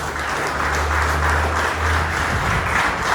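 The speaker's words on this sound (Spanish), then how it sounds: "Dame un aplauso al Señor" A church congregation applauds during a sermon by Pastor Randall Ramirez M, loud, dense clapping that holds steady throughout, close and without pauses.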